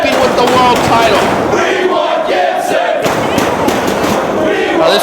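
An arena crowd at a professional wrestling event chants for Gibson, a loud rhythmic mass of voices rising and falling, with shouted cheers mixed in throughout.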